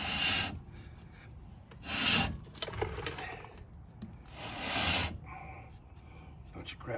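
A Triumph TR6 brake drum is turned by hand and scrapes and grinds in several rough, uneven bursts, fairly quiet and close, with debris rattling loose between strokes.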